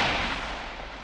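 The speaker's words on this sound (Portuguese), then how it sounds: "De repente, ecoa no ar um barulho de tiro" A gunshot from the opening scene of a western film booms loudly and fills the space, its reverberant roar slowly fading away.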